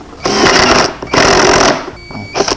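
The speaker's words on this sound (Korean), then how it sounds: "이 상태 그대로 스텝 드릴을 한번 대볼게요" A step drill bores a roughly 20 mm hole in a Kia Sorento MQ4 car door panel, giving loud, harsh whirring and grinding in two long bursts followed by a shorter final burst.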